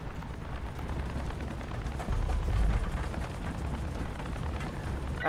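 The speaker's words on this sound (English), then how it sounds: "Ooh, it's got a Gatling in the front." Rapid gunfire from the nose-mounted Gatling gun on a plane in the video game Far Cry 5, a continuous rattling burst that swells in the middle and runs steadily to the end, with no talk.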